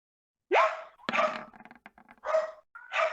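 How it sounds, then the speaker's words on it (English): A dog barks loudly several times in sharp close bursts, with a whimpering yip between barks, fairly loud and without talk. "my neighbors have a dog. That is a loud ass dog."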